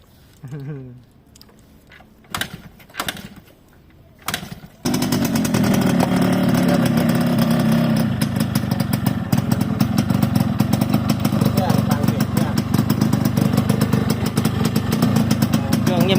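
After a few seconds of scattered clicks and handling noise, a Yamaha RXS115 two-stroke motorcycle engine starts and keeps idling loudly with a fast, rattling putter.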